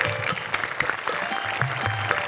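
An audience claps through a Marathi comedy stage show, steady applause running the whole stretch with no talk over it.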